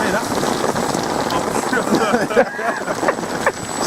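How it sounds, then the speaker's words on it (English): Rain falling steadily outdoors, a dense hiss of drops spattering on surfaces, loud and close, with voices talking underneath. "Everyone gets pumped up as soon as the rain starts."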